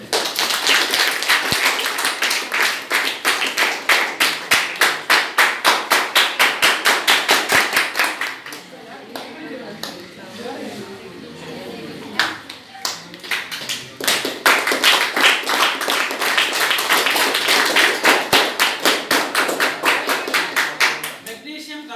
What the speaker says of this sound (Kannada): ಚಪ್ಪಾಳೆ ತಟ್ರಿ ಮತ್ತೆ